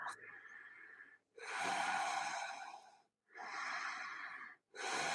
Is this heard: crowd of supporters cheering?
no